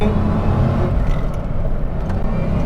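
A 2003 Ford Mustang SVT Cobra accelerating hard through the first gears, a loud close engine roar with a deep steady rumble and no talk.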